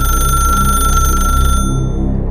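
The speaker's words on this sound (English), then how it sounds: "Then the phone rang a 3rd time." An old rotary phone rings with a shrill, mechanical bell, loud and close, one sustained ring that cuts off partway through and leaves a brief fading tail.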